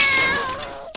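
A pet cat lets out a single drawn-out, close and clear meow lasting about a second, with no other voices around it.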